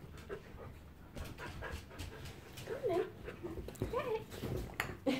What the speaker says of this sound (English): Happy dog.